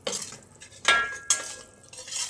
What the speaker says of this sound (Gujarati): લોટને વચ્ચે વચ્ચે આ રીતે હલાવતા જવાનું, તળિયે લોટ બેસે નહીં